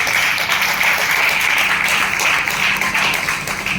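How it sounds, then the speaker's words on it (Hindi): Audience at a business event giving sustained applause for a girl, a dense, even wash of clapping that holds steady throughout with no clear talk. "ये बिटिया के लिए जोरदार ताली होनी चाहिए।"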